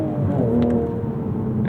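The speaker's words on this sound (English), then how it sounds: "Sometimes with these turbocharged engines, you have to be a little bit more aggressive when you're trying to rev match." A turbocharged BMW-built inline-six in a 2026 Toyota GR Supra Final Edition blips and revs during a heel-toe downshift, a smooth rising and falling engine note heard from inside the car, loud and close.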